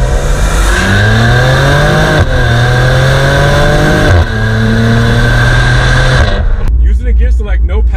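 A 2021 Maserati Levante engine revs hard through a loud acceleration pull, its rising pitch sweeping up in repeated gear steps before cutting off sharply near the end, leaving quieter road and wind noise.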